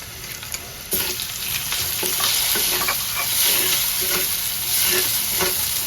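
Spice paste sizzles and crackles in a hot pan over fried onions, growing louder after a moment, with scattered spatters and stirring sounds throughout.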